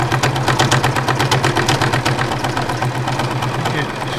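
A sewing machine stitches down fabric patches for threadpainting with a rapid, even mechanical chatter, close and steady for a few seconds under a speaking voice.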